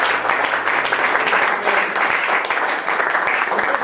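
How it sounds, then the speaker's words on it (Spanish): Sustained applause from a church congregation, dense and steady throughout, with a few faint voices mixed into the clapping. "Démosle un aplauso al Señor"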